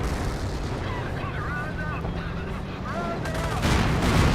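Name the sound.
pintle-mounted gun firing in Company of Heroes video game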